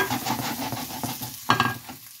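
Cabbage sautés in a hot pan with a steady close sizzle, punctuated by a few scraping stirs of a spoon or spatula.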